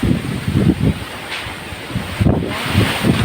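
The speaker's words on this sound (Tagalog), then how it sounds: "Ganito kalakas ang hangin, no?" Powerful mountain wind gusts batter the microphone in loud, low rumbling surges separated by brief lulls.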